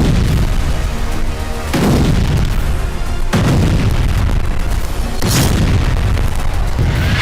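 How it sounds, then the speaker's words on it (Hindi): Heavy booms from rocket fire in the Israel-Palestine war, three big blasts at roughly even intervals over continuous loud rumbling and crackling, powerful and distant-sounding. "यहाँ पर एक बार फिर से कई रॉकेट दागे गए हैं।"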